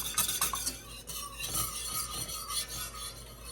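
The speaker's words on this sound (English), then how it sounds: "And then you're going to whisk this all together and bring it to a boil." A whisk scrapes and stirs a cocoa powder and coffee mixture in a pan, with quick rhythmic rasping strokes, close and moderately loud with no talking.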